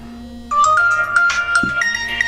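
A smartphone ringtone set off by the find-phone function of a Cubot W03 smartwatch starts abruptly and plays a loud, bright electronic melody of rising and shifting tones close by.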